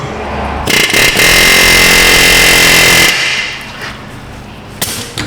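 A power tool loosens a Torx bit on the rear brake of a Buick Enclave, giving one loud, close, harsh burst of about two and a half seconds that drops to a quieter mechanical tail.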